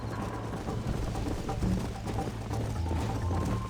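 Horse hooves clip-clop at a steady gallop across Red Dead Redemption's Western terrain, close and continuous under a dense game soundscape, with a brief voice-like tone in the middle.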